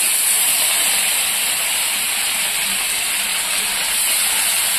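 Fish dropped into hot oil with turmeric and salt sets off a loud, even, hissing sizzle that holds steady throughout, with no talking.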